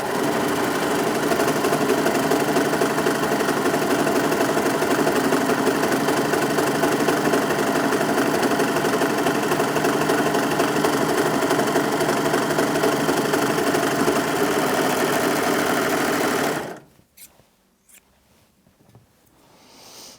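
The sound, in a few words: Brother 3034DWT overlocker sewing a seam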